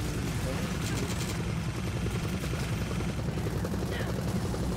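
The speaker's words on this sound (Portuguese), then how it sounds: "mandando um helicóptero aqui pra nos matar, cara" Attack helicopter in Gears of War 4 bearing down, a steady loud rotor drone mixed with bursts of gunfire, continuous throughout with voices talking over it.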